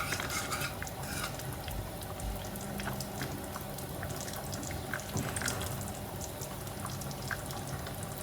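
Coconut milk pours into a pot of boiled vegetables for an Anglo-Indian vegetable stew, giving a continuous soft, watery gurgle and splash with no talking.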